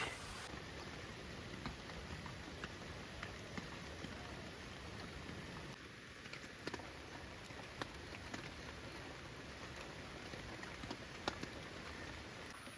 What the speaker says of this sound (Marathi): पाऊस आहे ना इकडे चालूच आहे